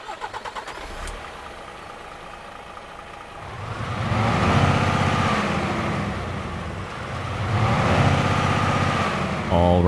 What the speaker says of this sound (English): let's get this Kenworth T680 Next Gen started up and get on the road